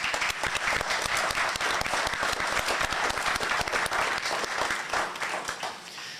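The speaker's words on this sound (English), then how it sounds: "please give one more round of applause to all of our candidates here tonight" Audience at a county candidates forum in Estill County gives a sustained round of applause, dense steady clapping lasting several seconds before tapering off near the end.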